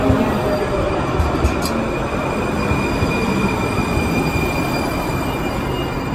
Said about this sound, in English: Westbound train is approaching.